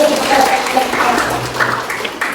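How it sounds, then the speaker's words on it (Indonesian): A school classroom of seventh-grade students clapping together after a concentration game, a brief burst of applause with voices chattering over it. "Tepuk tangan dulu"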